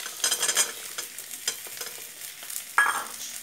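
Green peas with ginger and green chilli paste fry in a pan while a utensil stirs them, bursts of sizzling and scraping strokes close by, with no speech.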